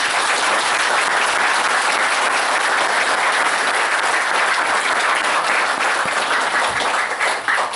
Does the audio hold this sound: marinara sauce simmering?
no